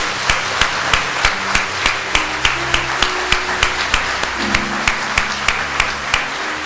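At a church service honouring a retiring pastor, the congregation claps in a brisk, steady unison beat over a low sustained musical backing, loud and close.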